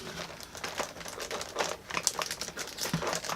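Video game packaging being opened with scissors, a close, quiet stretch of dense crinkling and snipping plastic with steady small crackles and no talking.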